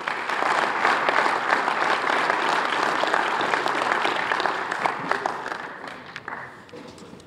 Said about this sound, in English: nice round of applause for Tegan Andre.